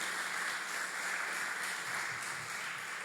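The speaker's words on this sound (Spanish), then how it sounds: "Denle ese aplauso al Señor" A church congregation applauds during a service, a steady, fairly faint wash of clapping that holds evenly without voices.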